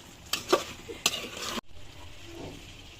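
Meat and potatoes cooking in a pot, a few scraping stirs and clinks against the metal over a soft sizzle, close and brief.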